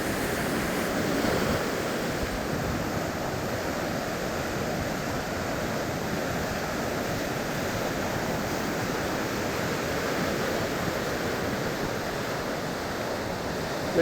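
Rough ocean surf rolls in at Bastion Inlet with a broad, constant roar of breaking waves and some wind buffeting, steady and fairly loud throughout with no voices.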